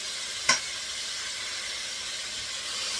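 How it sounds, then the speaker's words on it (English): Steady, even sizzling of bacon frying in a pan, close and continuous, with one brief sharp click near the start. "But you will see, this is frying."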